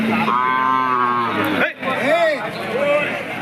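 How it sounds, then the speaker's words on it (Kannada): Cattle at the KG Temple cattle fair in Gubbi taluk. A long, loud moo rings out nearby, followed by shorter, rising calls, with faint crowd chatter in the background. "ತುಂಬ ಇತಿಹಾಸ ಪ್ರಸಿದ್ಧ ಐತಿಹಾಸಿಕ ದನಗಳ ಸಂತೆ KG ಟೆಂಪಲ್ ದನಗಳ ಸಂತೆ"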